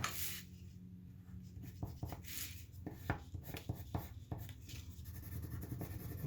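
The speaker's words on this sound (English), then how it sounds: "Color the whole thing in." A marker coloring in a drawing makes soft, close scratching and squeaking strokes in irregular bursts against quiet background hum, with no talking.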